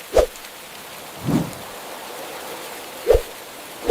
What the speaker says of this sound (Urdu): آسٹریلیا اور انڈونیشیا میں بارشیں خوشی سے برسنے لگیں۔